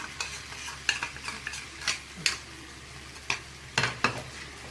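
Paneer masala being sautéed in a pan, a soft background sizzle broken by repeated scraping and knocking strokes of a spoon stirring the thick mixture, close and moderately loud.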